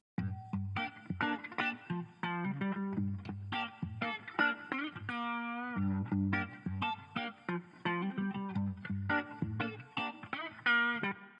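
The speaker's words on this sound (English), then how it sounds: "it's a rotating speaker, and it creates this warble effect that's really cool and really psychedelic" Distorted electric guitar chords and riffs with a swirling, wobbling warble from a rotating speaker effect in a 1960s psychedelic rock style, played alone at moderate volume.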